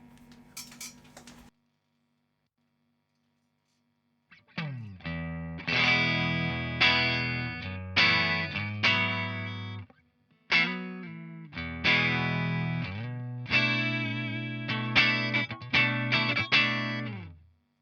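After a brief noise and a pause, an electric guitar plays a run of bright, crisp, slightly distorted notes through an amp with a bright cap engaged, loud and close.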